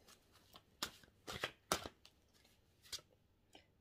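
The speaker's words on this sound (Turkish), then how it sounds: "3 kart seçiyorum." Tarot cards are shuffled and drawn by hand, giving soft, close riffling bursts and quick flicks, with several louder shuffles in the middle and faint taps between them.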